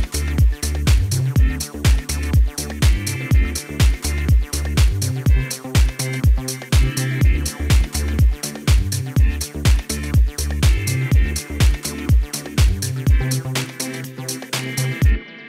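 A drum beat programmed in Cubase plays on its own, loud and close, with a steady, punchy kick and snare groove and crisp hi-hats repeating over and over.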